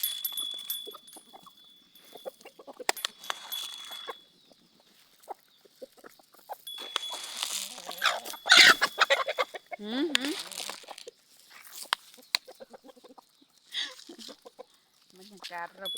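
On a farm, hens and young chicks cluck and peep in short, scattered bursts, close to the microphone, while someone talks now and then over the birds.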